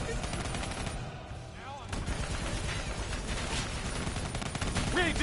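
Dense, sustained gunfire fills a Black Ops 3 firefight aimed at a VTOL aircraft, with bursts of automatic shots layered over constant battle noise and explosions, loud and continuous throughout.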